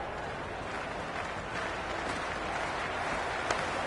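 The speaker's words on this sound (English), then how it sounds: "Audible that the crowd is at near bursting point at today's play." Crowd noise from a cricket video game, Australia versus England, a steady broad roar of a large stadium audience with cheering and applause that holds even throughout, fairly loud and continuous with no voices standing out.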